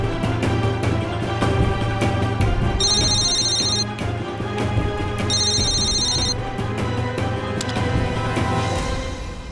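A telephone rings in an indoor domestic scene from a Hindi television drama, two bursts of electronic trilling over a steady background music bed.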